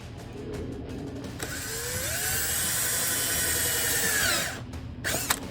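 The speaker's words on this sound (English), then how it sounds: "after drilling those 3 holes" A power drill boring holes in a C7 Corvette to mount an XIK GT wing, starting with a few short bursts and then a steady, rising whine lasting several seconds, followed by brief trigger pulses.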